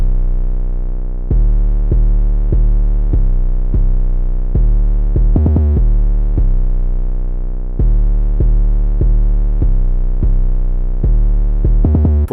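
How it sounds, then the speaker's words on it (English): Spinz 808 bass pattern with light distortion programmed in FL Studio for a trap beat, deep sustained booming notes in a repeating rhythm with a quick stuttered roll, loud and alone. "So the pattern the 808 plays is this one."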